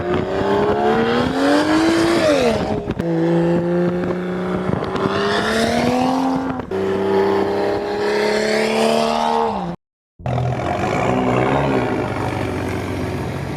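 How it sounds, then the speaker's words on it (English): Straight-piped BMW 335i with an N55 engine and an aggressive burble tune, revved hard in repeated long pulls with crackling pops between them, loud and close, with one brief cut to silence near the end. "His exhaust setup is basically completely straight piped, and it sounds really good. Plus he has like a pretty aggressive burble tune on there, and it pops a ton."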